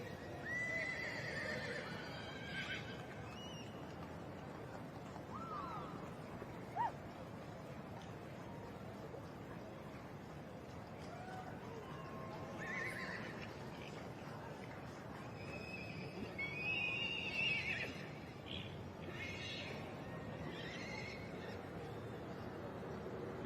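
Big horses at the Royal Welsh Show whinny and neigh a few times, with soft clip-clop of hooves on the showground. The sounds are faint and distant under an outdoor murmur, with occasional bird calls.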